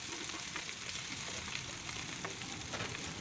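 Mutton shami kababs fry in a pan with a constant, even sizzle and faint crackling, heard up close at low volume without any talk.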